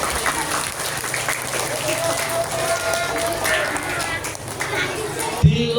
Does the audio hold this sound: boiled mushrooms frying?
no